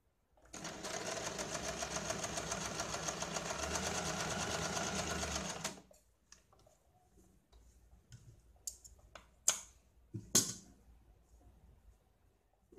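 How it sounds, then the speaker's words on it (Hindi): A sewing machine runs steadily for about five seconds, stitching a straight seam on a blouse, then stops, leaving a few scattered clicks and handling taps of fabric. "यहाँ पे हमें ये सीधी सिलाई लगानी है"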